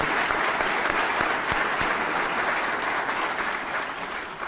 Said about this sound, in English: could we give the team at Interior and the White House a big round of applause?